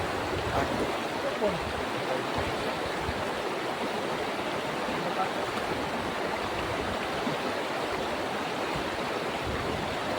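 A clear river stream at a campsite in Laguna flows steadily, a continuous broadband rush of water heard up close with no talk over it.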